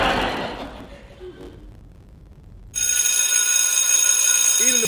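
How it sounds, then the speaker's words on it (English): A distorted, crackly electronic bell that cuts in abruptly after a faint, hissy stretch, ringing loud and harsh with sustained buzzing tones to the end. "Even the bell sound like it's broke."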